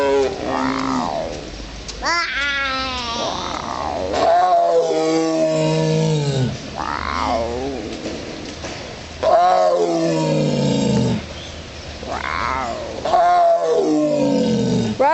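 A tiger gives a string of deep, drawn-out roars and groaning growls, loud and close, coming in repeated swells with short gaps between them.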